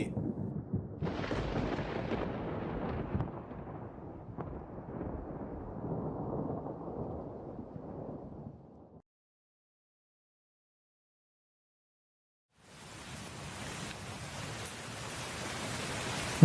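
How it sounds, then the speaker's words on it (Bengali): Heavy thunderstorm rain in a Bangla cartoon about a village courtyard, a loud broadband roar for about nine seconds, then sudden silence, then the downpour returning strong. "যাক, বৃষ্টিটা হয়ে ভালোই হলো।"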